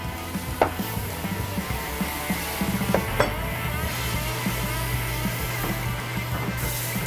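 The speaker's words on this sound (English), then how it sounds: "we're gonna turn the heat up on that guy just so that way it starts to cook down and reduce" Sauce reducing over high heat in a pan while making hors d'oeuvres: a steady, moderate sizzle and bubbling hiss with a few brief clinks and stirring scrapes.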